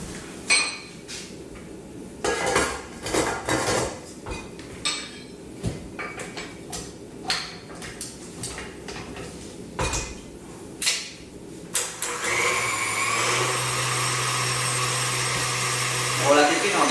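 A stand mixer starts kneading homemade focaccia dough, a steady loud motor hum with a low drone taking over after a stretch of clinking bowls and utensils being handled.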